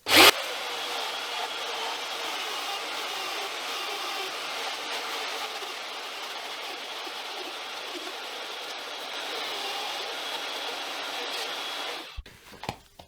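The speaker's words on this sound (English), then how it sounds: "some sort of sander that is flat. And just start it up, and we'll just smooth out all these edges and make them perfect." A flat power sander smooths the cut edges of an electrical box being made into a pedal enclosure, running as a steady, loud continuous whir for about twelve seconds before switching off and winding down.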